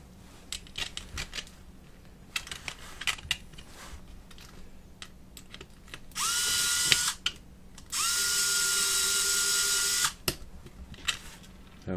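Screws are driven in with a power driver to fix a 3D-printed part of a smart fan during assembly: two sustained whirring bursts, each two to three seconds long, amid scattered clicks and handling knocks, close and fairly quiet.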